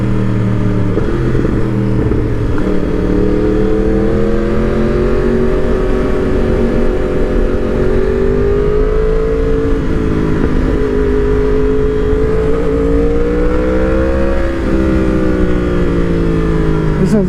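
A 2020 Yamaha R1 motorcycle pulls away in a long first gear at a bike night, its engine note climbing and wavering loudly and close over a sustained stretch, with someone talking along the way.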